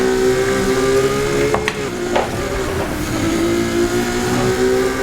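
A grippy race car in Need For Speed, played on a steering wheel, its engine a steady loud drone with a sustained tonal whine, plus a couple of brief clicks partway through and no talking.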